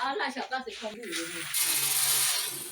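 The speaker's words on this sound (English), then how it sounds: "this is the other part where now we grind the maize into flour" Maize being ground into flour in a posho mill in an African village, a continuous mechanical grinding rattle that builds to a steady, loud harsh whir, with some voices talking over the start.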